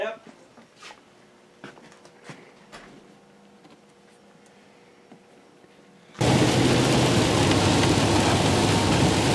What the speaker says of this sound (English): So the storm has started, starting with rain